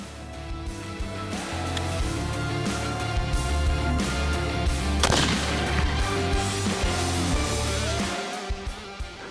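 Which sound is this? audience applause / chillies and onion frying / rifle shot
rifle shot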